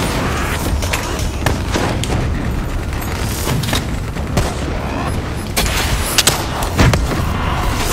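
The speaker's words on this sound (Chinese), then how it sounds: "终于爆了，终于爆了" Explosions and gunfire in Call of Duty: Black Ops III, loud repeated booms and sharp shots in rapid succession over a steady combat din, with a heavier blast near the end.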